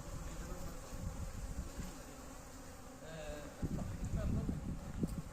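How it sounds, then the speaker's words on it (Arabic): Honeybees swarming over sugar outdoors give a steady, dense buzzing hum that runs throughout, with a voice talking over it and rustling noises growing louder near the end. "النحل تجمع على السكر"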